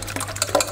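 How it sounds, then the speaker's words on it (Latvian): Eggs being beaten with a fork for an omelette, a quick wet rhythmic clicking and sloshing close up, alone without talk. "Mēs kuļam ar dakšiņu."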